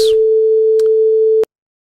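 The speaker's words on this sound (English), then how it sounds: "now when I turn on the processing, you hear a sine wave." A pure sine wave tone synthesized in Pure Data holds one steady, clean pitch for about a second and a half, then cuts off abruptly into silence.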